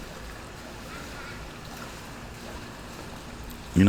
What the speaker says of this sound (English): if you're hearing the waves crashing, I'm doing my podcast from the pool